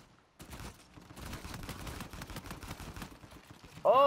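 Gunfire in the video game Uncharted 4, a rapid burst of shots running steadily for several seconds after a brief quiet start.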